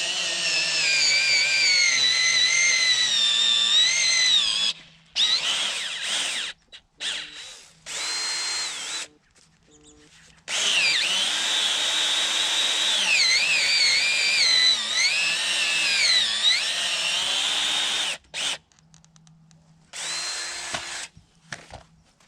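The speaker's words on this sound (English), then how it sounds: "I'm going to take my drill and I'm going to drill me a hole down in this dirt." A power drill whines loudly in long bursts, its pitch rising and falling as it bores a hole into dirt, with short pauses between runs.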